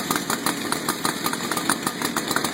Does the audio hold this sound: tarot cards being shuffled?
no